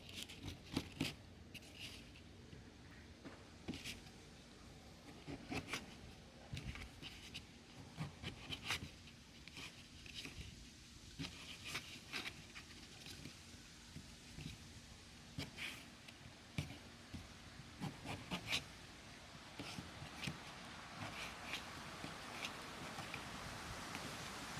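Knife cutting eggplant on a board for a stir-fried garlic sauce dish, heard as a long run of close, repeated sharp chopping ticks and scraping in an irregular rhythm, with no talking.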